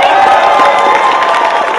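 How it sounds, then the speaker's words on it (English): Loud crowd applause and cheering for bodybuilding athletes at a physique championship, a dense roar of clapping and shouts filling the hall without pause. "I would really like for you guys to give a round of applause to all the amazing athletes behind the curtain."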